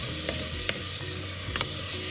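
Green gram and rice stirred and frying in a pan, a steady close sizzle broken by a few light scraping clicks of the spoon, with no voices.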